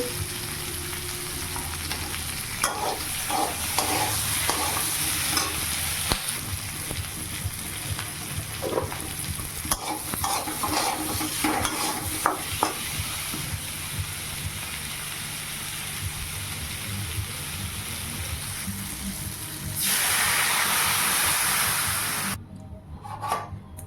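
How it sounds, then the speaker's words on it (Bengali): Potatoes sizzle in hot oil with salt, turmeric and chilli for a potato and eggplant curry, a continuous close frying hiss broken by scraping stirring strokes, swelling louder near the end before cutting off. "আলু দিয়ে দিলাম লবণ হলুদ লঙ্কা দিয়ে ভালো করে কষিয়ে নিয়ে"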